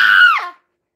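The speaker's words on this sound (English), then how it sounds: "Scream into the void." A single loud, high-pitched scream right up close in a Five Nights at Freddy's game session, held for about half a second, then falling in pitch and cutting off abruptly into silence.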